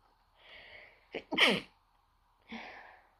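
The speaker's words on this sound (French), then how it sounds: "je vais éternuer" A single close sneeze with a breathy wind-up, a sharp explosive burst, then a soft exhale afterward.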